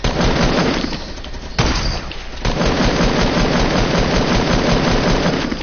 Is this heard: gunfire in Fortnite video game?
yes